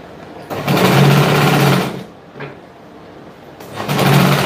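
Sewing machine running seams to close the shoulders of a silk blouse with elastic shirring, loud close whirring bursts of stitching separated by a short pause, then starting up again.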